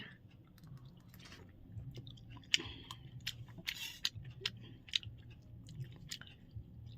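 Payesh, a sweet rice pudding, being eaten at close range: soft wet chewing and smacking with small irregular clicks and squishes over a quiet background, with no talk.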